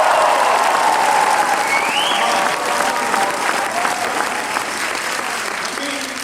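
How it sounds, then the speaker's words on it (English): Audience applause at a company event, a loud, sustained wash of crowd clapping that tapers slightly toward the end. "Can you clap like you mean it?"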